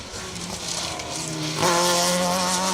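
A Ford Fiesta rally car on a special stage of the Carlisle Stages Rally, its engine droning steadily and then rising sharply in a loud burst of acceleration near the end.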